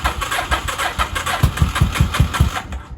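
A 1983 Honda engine cranks over with a series of rhythmic low thumps, then catches and settles into a steady idle, loud and close before cutting off near the end.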